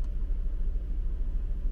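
An Aston Martin Vantage F1 Edition idles in Sport Plus mode with its exhaust valves open, a steady deep low rumble with no voices over it.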